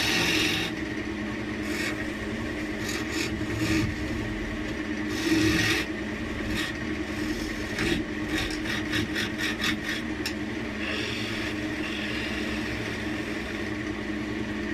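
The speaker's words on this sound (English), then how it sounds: "Let's get our gouge out and take the rest of this off." A wood gouge cuts a small oak ashtray blank spinning on a lathe, giving a continuous close rasping scrape with rhythmic pulses and brief louder bursts over the machine's steady hum.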